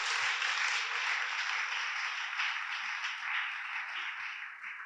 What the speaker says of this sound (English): great round of applause for these 2 women